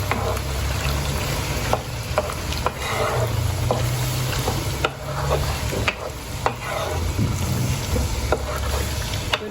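Squid balado frying in a pan gets stirred, with a constant loud sizzle and low rumble under repeated scraping strokes of the utensil at uneven intervals, and no talking.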